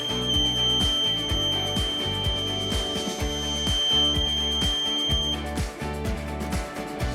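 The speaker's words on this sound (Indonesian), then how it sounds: "buzzer akan mengeluarkan bunyi bip panjang dan terus-menerus" A buzzer in a 555 timer circuit holds a steady high electronic tone over rhythmic repeating beeps, continuous for several seconds, then cuts out near the end.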